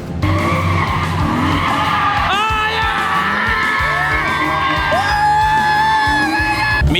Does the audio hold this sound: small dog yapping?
no